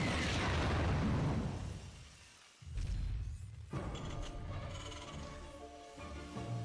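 A grenade explodes in StarCraft 2, a loud booming burst that fades out over a couple of seconds, followed by quieter clicks and in-game effects.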